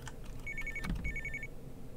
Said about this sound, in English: There should be like a phone that goes off at one point